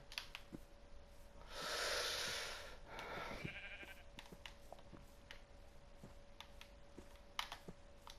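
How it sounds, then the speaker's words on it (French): Sheep in Minecraft on PS4 give a bleat-like burst of noise lasting about two seconds, followed by a shorter call, over steady game background and light clicking. "je vais chercher le mouton"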